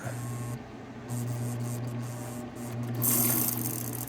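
A Bernina Record 7 sewing machine running at varying speed, a faint steady whirring hum that stops briefly, restarts and speeds up toward the end with a brighter rattle.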